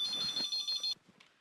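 Telephone ringing indoors in a house, a bright electronic ring repeating rapidly for about a second before stopping, followed by faint room sounds.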